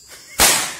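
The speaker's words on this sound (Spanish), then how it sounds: "Voy a tirar 6 cuetazos." A single loud firecracker bursts close by, a sharp crack at a New Year's or Christmas-style celebration in Salvadoran fashion, followed by a lingering noisy decay after a quiet lead-in.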